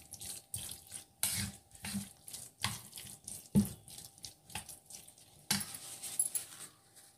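Semolina vegetable muffin batter with baking powder is stirred in a bowl, giving a series of scraping, knocking strokes in an irregular rhythm, close and fairly quiet, with no talking.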